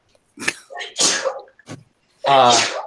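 A person sneezes sharply once, close and loud, during a tabletop role-playing game session, with bursts of voice before it.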